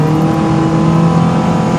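A car accelerates without any gear shifts, a loud continuous engine roar holding steady tone throughout with no breaks or dips.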